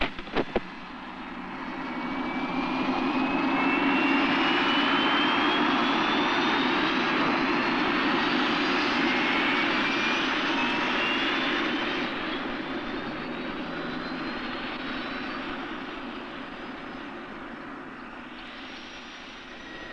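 A helicopter in flight over a highway toward a city, heard from inside as a steady droning engine roar with rising whine, swelling and holding loud for the whole stretch before easing slightly.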